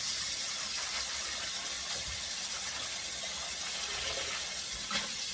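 Tap water pours steadily into a kitchen sink filling up for washing collard greens, a constant broadband rush with no talking.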